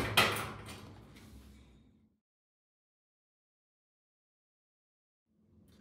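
Key tested in the lock of a package box's door: a quick rattling metallic clatter and clunk that fades out, followed by silence and a faint return of noise.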